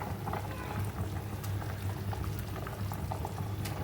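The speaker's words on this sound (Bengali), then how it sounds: "এবারে দেখো আমি কোপ্তাগুলো একে একে ছেড়ে দিচ্ছি।" Soybean koftas dropped one by one into a pot of boiling curry, with steady bubbling and faint soft plops over a constant simmering rumble.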